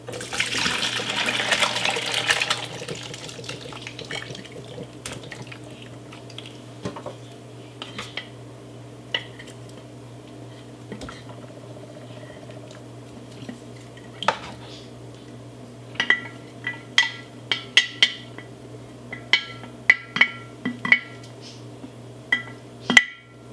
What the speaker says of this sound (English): so now I need to rinse the butter with really cold water so that I can get all of the buttermilk out of it